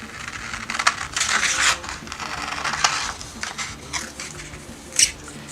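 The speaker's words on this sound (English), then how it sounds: "taking my scissors, I'm going to cut this out" Fabric scissors snipping through a paper dress pattern, giving a run of close, crisp cuts and rustles with a sharper snip near the end, no voices.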